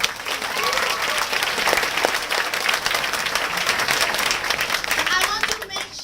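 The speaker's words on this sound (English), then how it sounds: "Let's give a round of applause to those people who are standing" A large audience at a talk breaks into loud, steady applause, many hands clapping densely and continuously from start to finish.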